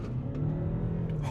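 Audi A5 Avant C9 engine straining under acceleration, a steady droning hum heard briefly from inside the car with no talk.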